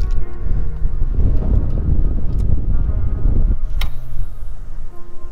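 Heavy wind buffets the microphone outdoors while fishing in a loud, low roaring rush for several seconds, then eases to a lighter gusting hiss.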